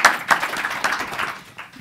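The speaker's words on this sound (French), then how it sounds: "Les amis, applaudissez pour notre invité" A studio audience at the French-language talk show Kowbeye claps for a guest in a short, dense patter of hands, close and fairly loud, fading slightly toward the end.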